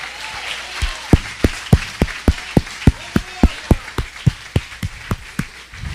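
A church congregation clapping in a steady rhythmic beat, about three claps a second, loud and fairly close in a reverberant hall, with no talk over it.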